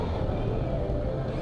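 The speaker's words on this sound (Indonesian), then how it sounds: "4 silinder. Bunyi sih udah oke." A four-cylinder motorcycle engine, a Kawasaki ZX-25R, idles steadily with a smooth, low, continuous rumble, close and even in level, with no other sounds standing out.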